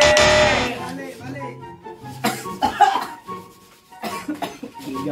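A few sharp coughs amid lively overlapping talk and laughter, close and fairly loud.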